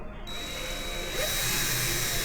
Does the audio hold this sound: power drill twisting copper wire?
yes